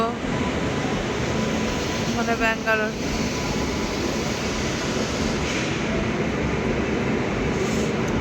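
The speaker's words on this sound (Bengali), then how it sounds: "এই দেখো এতক্ষণের ট্রেনের মুখ দেখা গেছে" A train pulls into a railway station around midnight, producing a loud, steady rumble and hum with a brief squealing burst, while people talk nearby.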